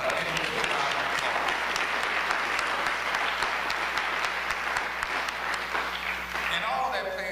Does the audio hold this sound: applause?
yes